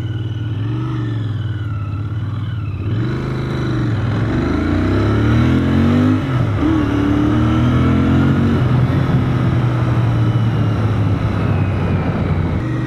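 A motorcycle on a test ride at a custom motorcycle shop, its engine droning and revving up through rising and falling tones, growing louder and rougher toward the end, with no talking.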